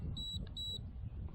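Two short, bright electronic beeps from a Hawkeye FireFly X Lite camera changing modes, evenly spaced and clear above a quiet background.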